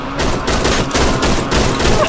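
Rapid bursts of shotgun fire in a video game, loud, dense and continuous, with repeated blasts merging into a sustained barrage across the whole clip and no talking.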